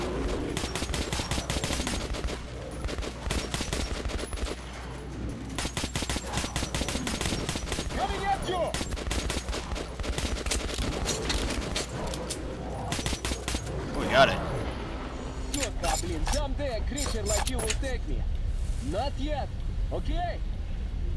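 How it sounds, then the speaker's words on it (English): Machine gun fire in the video game Metro: Last Light Redux comes in rapid bursts of repeated shots, loud and close, with gaps between the volleys and talking over parts of it. "Get your machine gun."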